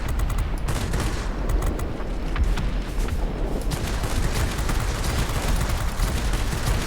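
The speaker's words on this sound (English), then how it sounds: "I feel like there's somebody behind me shooting." Aircraft gunfire in World of Warplanes, flying a MiG-9 jet fighter: continuous rapid machine-gun bursts rattle over a loud engine roar, dense and unbroken for several seconds with no talking.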